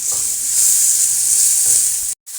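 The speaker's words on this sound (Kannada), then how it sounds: "ಒಂದು ನಾಲ್ಕೈದು ಹಸಿಮೆಣಸಿನ್ಕಾಯಿ ಹಾಕಿ ಫ್ರೈ ಮಾಡ್ಕೊಂಬಿಡೋಣ ಇದನ್ನು" Sliced onion and four or five green chillies fry in a pan for an egg curry, a loud, close, steady sizzle with faint stirring scrapes and a brief cut-out just before the end.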